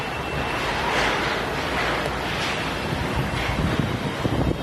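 Strong dust-storm wind roaring in Mumbai, a steady loud broadband rush buffeting the microphone with gusts swelling throughout and no speech.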